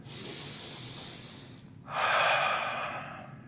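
A deep breath taken during a beginner's Sun Salutation B yoga flow, a soft sustained airy inhale or exhale that swells midway, close and alone over a quiet room hum.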